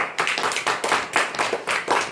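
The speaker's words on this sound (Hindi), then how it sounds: "तालियां" Brisk hand clapping in a primary school classroom, about eight bursts of claps in quick succession, bright and fairly close, with no talking over it.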